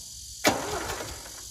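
A long-neglected tractor's starter motor gives a sudden loud crank that fades into a short whirring spin, heard close and alone.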